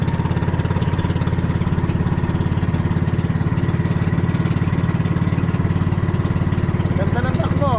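A boat engine chugs in a steady, loud, rapid rhythm while cruising through mangroves, with a voice talking over it near the end.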